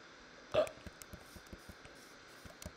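One faint hiccup sounds near the start, followed by a string of soft, regularly spaced ticking clicks in an otherwise quiet setting.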